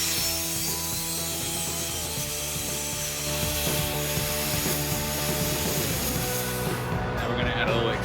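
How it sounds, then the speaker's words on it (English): A sawzall blade scrapes slag out of the inside of a VW Jetta MK6 exhaust pipe, giving a continuous gritty metallic rasping with ratcheting scrapes, close and fairly loud. "Really easy to do here with a little sawzall blade."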